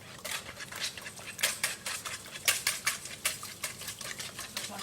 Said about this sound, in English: I'm just going to whisk that together.